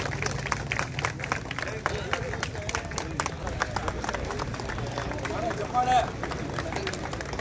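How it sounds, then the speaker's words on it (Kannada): An audience at an Independence Day celebration applauds to welcome a guest, a steady patter of clapping from a moderate crowd with background murmur throughout. "ದಯವಿಟ್ಟು ತಮ್ಮ ಚಪ್ಪಾಳೆ ಮೂಲಕ"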